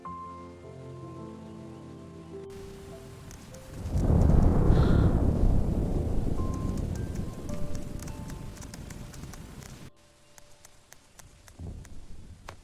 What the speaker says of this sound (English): The rain is starting outside.